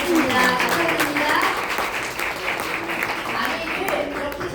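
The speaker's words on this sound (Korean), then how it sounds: "큰 감사의 박수 보내드립니다" An audience at a company office gathering claps in thanks, a steady wash of applause lasting several seconds with voices mixed in.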